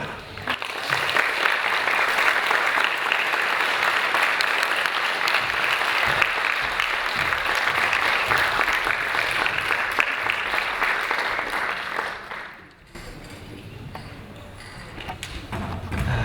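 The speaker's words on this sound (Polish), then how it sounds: "Moment na rzęsiste brawa." Sustained, dense applause from a festival audience greeting filmmakers at a post-screening documentary meeting, steady and full for about twelve seconds before cutting off into quieter room sound.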